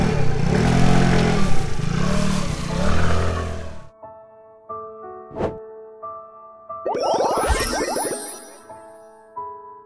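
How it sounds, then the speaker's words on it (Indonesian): A buzzy, cartoonish scooter engine revs for a few seconds in a children's vehicle-learning game, then stops, followed by bright chimes, pops and a swooping effect. "Skuter."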